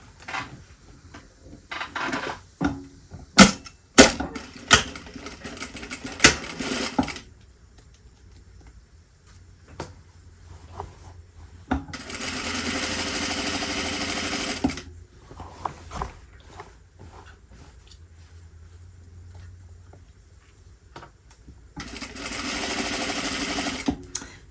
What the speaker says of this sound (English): Let's sew down our side seam.